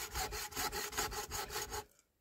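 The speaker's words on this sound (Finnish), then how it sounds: "Onpa tää raskasta. Aika pieni tää saha." A small hand saw cuts through birch wood outdoors in a rhythmic run of about eight quick back-and-forth rasping strokes, close and fairly loud, then stops abruptly.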